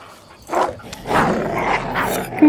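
An animal in the video game Survival: Fountain of Youth barks and growls, with three rough, throaty bursts spaced over a quiet ambient background.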